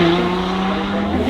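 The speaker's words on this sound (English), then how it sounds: "Rear wheel drive. And they are sliding." A rear-wheel-drive supercar slides at the Goodwood Festival of Speed, its tyres squealing loudly and steadily over a brief stretch under a continuous engine roar.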